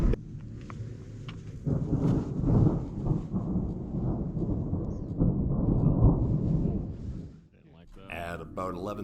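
A thunderstorm near tree line in the Colorado mountains, with long rolling thunder building and rumbling for several seconds, then fading before rain-soaked, close rustling noise near the end.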